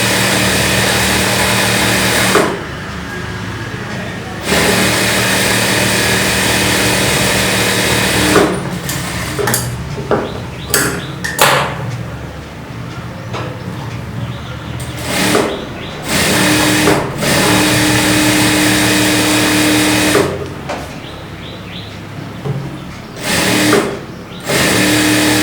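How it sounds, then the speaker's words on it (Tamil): Sewing machine stitching along the edge of a blouse piece, loud close rattling runs of stitching that start and stop in bursts with short pauses between, no talking. "ஒரு பீஸ் மட்டும் எடுத்துட்டு எட்ஜ் தைக்கலாம்."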